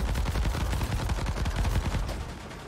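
Rapid, dense weapon fire from War Robots Frontiers, a continuous loud stream of punchy shots rattling for the whole stretch without pause.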